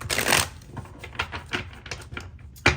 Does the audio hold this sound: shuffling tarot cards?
yes